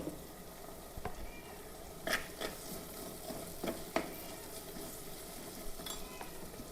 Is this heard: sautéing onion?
yes